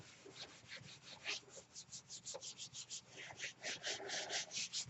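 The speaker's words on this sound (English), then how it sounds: "Rubbing it in good." A print being rubbed by hand onto a gel plate for a transfer, giving a steady run of quick, dry scrubbing strokes in a fairly even rhythm, moderately close and with no talk over it.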